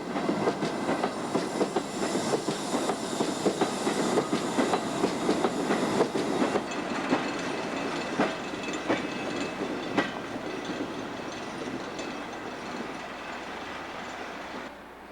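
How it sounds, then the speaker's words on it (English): Train of British Rail Class 20 diesel locomotives, English Electric built, 1,000 horsepower, passing close by: a loud sustained rumble and roar with steady clickety-clack of wheels over rail joints, easing slightly toward the end, with no talk. "The Class 20s were built from 1957 to 1968 by the English Electric Company."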